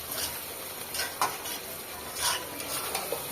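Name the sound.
meat with garlic being stirred and fried in a pan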